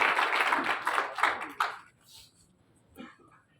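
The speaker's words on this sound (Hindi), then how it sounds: "तालियां बजाओ इनके लिए।" Audience clapping at a meeting rises in a busy burst of many hands for under two seconds, then fades to near quiet with a few faint stray sounds.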